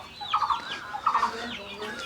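Young chicks chirp outdoors on a sunny day, with repeated quick high peeps in small bursts, close by, over a soft background hiss and with no talking.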